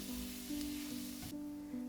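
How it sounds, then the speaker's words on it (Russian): Garlic sizzling in melted butter in a skillet, a quiet steady crackling fry with a faint tonal hum running underneath, heard alone without talk. "Добавьте еще немного сливочного масла в сковородку и обжарьте чеснок где-то 30 секунд."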